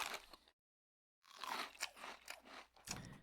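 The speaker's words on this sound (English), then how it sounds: "Crunch, crunch, munch." Crunching and munching from eating in the underwater survival game Subnautica, a run of loud bursts of chewing crunches with a brief silent gap near the start.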